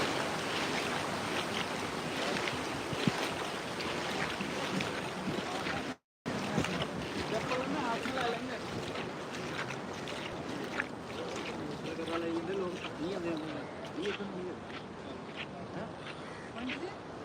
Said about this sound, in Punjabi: ਪਾਣੀ ਇੰਨਾ ਤੇਜ਼ ਹੈ ਕਿ ਪਾਣੀ ਸਾਨੂੰ ਖਿੱਚ ਰਿਹਾ